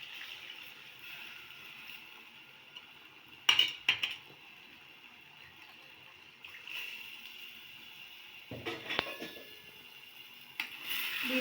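A ladle stirs black-eyed pea curry with tamarind in a pot in a few separate bursts, clinking and scraping against the pot between quiet stretches, soft and close, with no voices.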